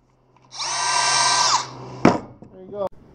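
A power drill whirs steadily for about a second into wood, followed by a couple of sharp knocks and a short squeak.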